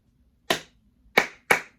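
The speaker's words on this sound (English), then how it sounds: "Now I'm really the only person in this room, so I'm just clapping by myself" One person claps alone in a quiet room, three sharp, close claps with a pause after the first and the last two coming in quick succession.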